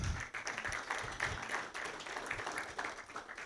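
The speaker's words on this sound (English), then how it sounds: "Please, another round of applause." Faint, scattered clapping from an audience at a health policy forum on Nigeria's elections, heard as distant, uneven hand claps that rise and fall.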